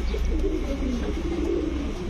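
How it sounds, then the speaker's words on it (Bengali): Chandan pigeons in a pigeon shop coo softly and steadily. The low, murmuring calls run through the whole stretch over constant background noise, and nobody speaks. "দর্শক কবুতর গুলো দেখেন আগে"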